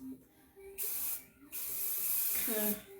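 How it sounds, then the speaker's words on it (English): Two bursts of Chi hairspray hiss close by, separated by a brief pause, with faint voices between. "hairspray and spray it out."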